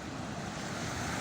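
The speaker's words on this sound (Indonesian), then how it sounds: "ombaknya cukup besar untuk berselancar" Ocean surf at Marosi Beach in Laboya, West Sumba, a steady broadband wash of breaking waves mixed with wind noise on the microphone, close and continuous with no voices.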